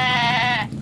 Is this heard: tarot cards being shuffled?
no